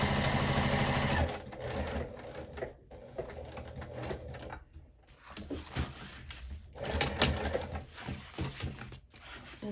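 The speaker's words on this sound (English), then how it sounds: "I'm going to go ahead and use a 3/8 inch seam allowance and just sew all the way around." A sewing machine stitches a bag lining and zipper pocket with a 3/8 inch seam allowance, running in loud bursts with short stops between them, close by and with no talking over it.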